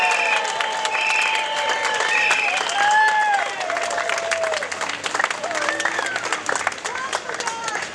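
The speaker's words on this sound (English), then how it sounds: "a warm round of applause for Ron Kaye" Warm audience applause welcomes former newspaper editor Ron Kaye at a Bastille Day event, crowd clapping with scattered cheers and whistles, some close hands sharp against the room, with voices underneath.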